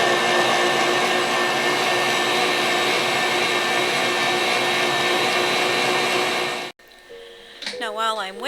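An electric hand mixer beats strawberries into egg whites and sugar, a loud steady motor whir running unbroken for several seconds, then it cuts out abruptly and a short stretch of quieter sound follows.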